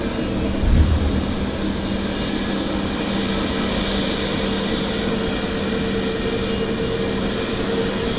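An easyJet airliner at Southend Airport gives off a steady, loud engine roar with a low drone. It fills the whole stretch with a brief thump near the start and no talking.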